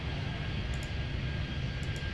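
Airplanes in the airport-control game Airport Madness 3D, set at Miami, produce a steady engine drone and rumble, with a couple of faint higher blips over it.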